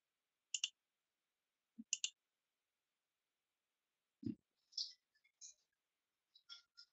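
Sparse, faint computer mouse clicks come singly and in quick pairs against near silence, with a few soft, brief ticks and taps scattered between them.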